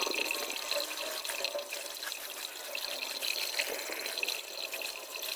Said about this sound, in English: Then the next step is to wash them properly.